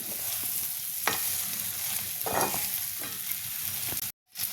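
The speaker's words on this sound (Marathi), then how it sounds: "सगळी भेंडी अशी छान हलवून घेतल्यानंतर मी गॅस थोडासा मध्यम करणार आहे" Okra sizzles and crackles in a hot frying pan while a spatula stirs it in a few scraping strokes, steady and close, with a brief cutout near the end; the dish is a quick no-onion, no-garlic okra masala bhaji.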